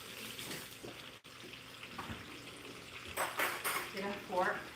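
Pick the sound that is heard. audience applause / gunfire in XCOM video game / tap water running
tap water running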